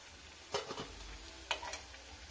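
Veg cutlets deep frying in hot oil, a steady soft sizzle with two brief louder bursts of crackling as pieces are stirred or turned.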